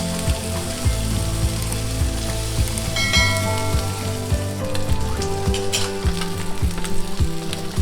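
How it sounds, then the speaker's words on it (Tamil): An egg fries in hot oil on a tawa, a steady close crackle and sizzle with occasional louder pops and faint clinks, no talking. "எண்ணெய் காஞ்ச உடனே நம்ம முட்டையை எப்படி இந்த ரிவர்ஸ் சைடில் வச்சிடலாம். ஃபஸ்ட்டு இந்த சைடு குக் ஆகட்டும்."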